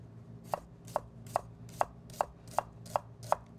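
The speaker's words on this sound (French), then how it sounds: "Je les tranche dans le sens du grain, comme ça, ils vont rester avec un petit peu plus de corps." A knife slices onions into strips on a cutting board, eight crisp, evenly spaced chops close up over a low kitchen hum with no voices.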